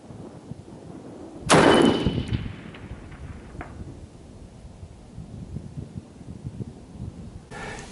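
A rifle fitted with a Leupold VX-5 HD scope fires a single sharp, loud shot at a 550-yard target outdoors, with a short echo trailing away amid light wind noise.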